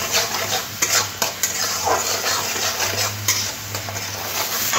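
Spices for a pomfret mustard-poppy-seed curry stirred and fried in a pan, with a steady sizzle and repeated scraping clinks of a spatula against the pan, close and continuous.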